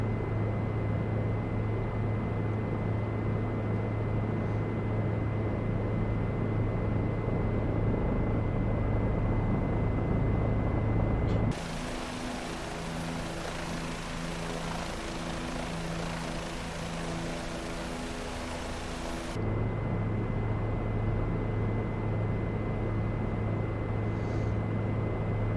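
A Bell 407 helicopter flies over the Grand Canyon in a flight simulator game, its rotor and turbine drone steady and loud, shifting midway to a brighter, thinner cabin tone with a high whine before the deeper rumble returns.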